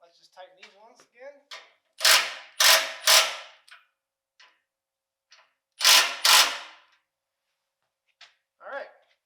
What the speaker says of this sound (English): Let's just tighten these ones again.